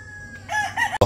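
A rooster crows nearby on a Philippine chicken-breeding farm, one short rising call ending abruptly, with no talking.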